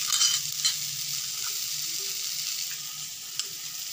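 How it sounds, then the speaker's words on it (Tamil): Onions and tomatoes sauté in a pan for home-style masala pasta, giving a steady close sizzle with faint stirring scrapes throughout and no voices. "இப்போ வந்து வெங்காயமும் தக்காளியும் நல்லா வதங்கிடுச்சு"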